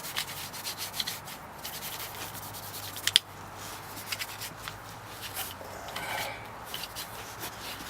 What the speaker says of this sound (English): so I'm just going to give it one final little rub down on the outside